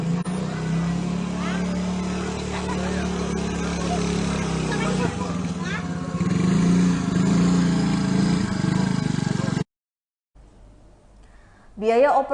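Motorcycle engines buzz and rev steadily close by at a collapsed bridge that only motorbikes can cross, with people talking over the engine noise. The sound cuts out abruptly near the end, followed by a brief quieter stretch.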